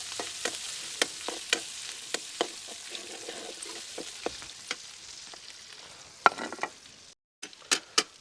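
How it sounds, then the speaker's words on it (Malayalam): Crushed shallots and four green chillies sizzle in hot oil for a Kannur-style mussel roast, a steady frying hiss punctuated by regular sharp clicks of a spoon stirring against the pan, with a few louder scrapes near the end. "പിന്നെ അതേപോലെ ഒരു 4 പച്ചമുളക്, അതും കൂടെ ഇട്ട് നല്ല രീതിയിലൊന്ന് എണ്ണയിലൊന്ന് മൂപ്പിച്ചെടുക്കാം."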